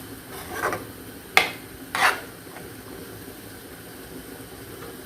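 Chopped capsicum stirred in a pan for homemade pizza topping: a few brief scraping strokes of a spoon against the pan, quiet and close, over low background hiss.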